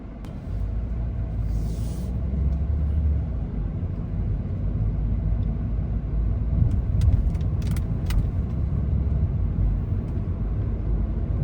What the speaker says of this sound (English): There is traffic on the roads.